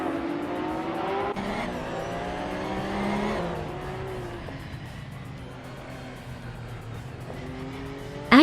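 Cars in a racing video game, including a 2010 Porsche 911 GT3 Cup, roar off at the race start: several engine notes rise and shift through gear changes, with a brief tire squeal near the end.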